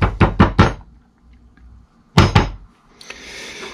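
Metal scuba regulator first stage being knocked to loosen clogging corrosion inside: a quick burst of four loud knocks, a pause, then three more close strikes, followed by faint rattling.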